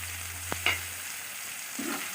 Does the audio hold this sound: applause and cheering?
no